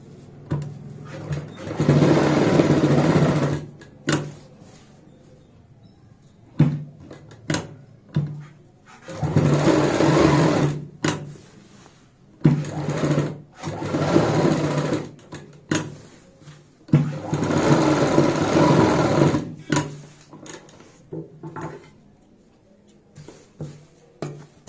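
A sewing machine stitches a handle strap onto a homemade fabric travel bag in repeated bursts of fast whirring, each run a few seconds long and separated by short pauses and clicks, close and clear.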